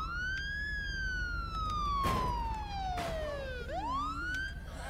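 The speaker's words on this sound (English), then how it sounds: "I've never been able to get the sirens able to work on this." Vehicle sirens wail in the video game State of Decay: Breakdown, a steady electronic siren sweeping up and down over a constant engine drone, with one brief burst of noise midway.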